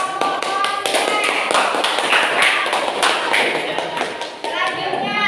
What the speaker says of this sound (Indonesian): tepuk tangan dari kelompok konsumen